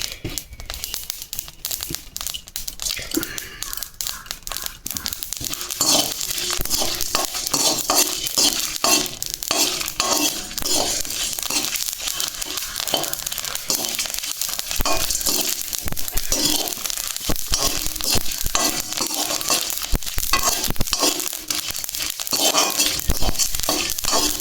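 Cumin, black pepper and other whole spices dry-roasted in a pan for homemade dal chanachur, with continuous stirring, scraping and crackling close up, some light sizzle and the odd clink, no talk.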